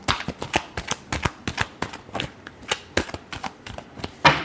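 A deck of tarot cards is shuffled by hand in a quick run of crisp riffling snaps, close and regular, ending in one louder slap.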